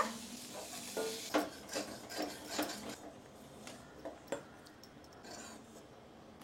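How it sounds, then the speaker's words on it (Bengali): Shrimp frying in a pan gives a sizzle with spatula stirs and clanks that is busier at first and then eases to a quieter hiss, with no talking. "চিংড়ি মাছ কটা বেশ সুন্দর করে একটু ভেজে নিয়েছি, এখন তুলে নেব।"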